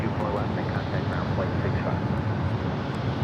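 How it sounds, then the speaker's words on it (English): A Japan Airlines Boeing 787-9 Dreamliner departing LAX for Tokyo Narita, its engines producing a steady, broad jet roar that stays constant throughout, heard from the distance of an airport viewing area. "This is takeoff Japan Airlines Flight 61, taking off to Tokyo Narita on the 787-9 Dreamliner."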